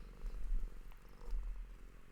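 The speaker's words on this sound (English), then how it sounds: "Here's my cat." An old house cat purring steadily up close, a low continuous rumbling purr with soft rhythmic pulses, alone with no talking.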